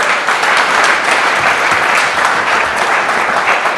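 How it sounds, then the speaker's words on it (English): An audience applauds the speaker, Erik van der Hoff, as he is presented with a gift after his talk, a loud, even wash of clapping that holds steady without pause. "A round of applause finally for Erik and Hoff"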